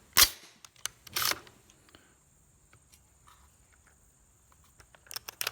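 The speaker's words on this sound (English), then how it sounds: "Try to take it out, maybe put it back in." A PMag magazine pulled from and pushed back into a Ruger AR-556 MPR rifle, giving a few sharp close metallic-plastic clicks and clacks at the start and the end with a quiet stretch between.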